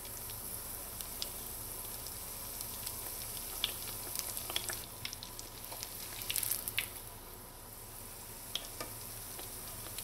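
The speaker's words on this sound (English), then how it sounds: "Well, my pot is small, so I'm going to fry them one by one." Fried bake dough frying in hot oil in a small pot, a soft, even sizzle with faint crackles and occasional pops, quiet and steady throughout.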